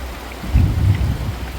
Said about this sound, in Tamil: பாருங்க இடி விழுந்துக்கிட்டே இருக்குது